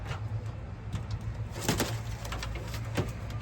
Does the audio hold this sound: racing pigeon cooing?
yes